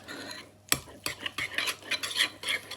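A spoon stirs a baked oats mixture sweetened with skinny syrup in a bowl, giving close, uneven scraping and clinking strokes with a few sharper knocks against the dish.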